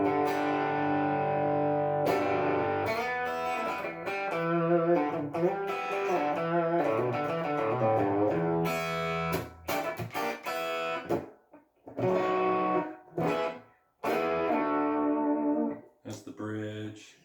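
An Epiphone Korina SG electric guitar played through its bridge pickup, with sustained chords and picked phrases, loud and close, with brief pauses between passages.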